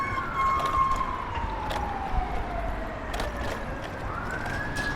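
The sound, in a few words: ambulance siren approaching from behind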